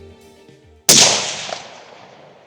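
A single loud, close rifle shot rings out during a red deer hunt, its sharp crack trailing into a long fading echo after a brief quiet murmur.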